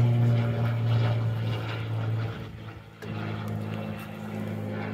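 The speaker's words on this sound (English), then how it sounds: "there goes a plane overhead" A propeller airplane drones steadily overhead for the whole stretch, a loud low engine hum that dips briefly near the middle and then resumes, heard outdoors near beehives with no talking.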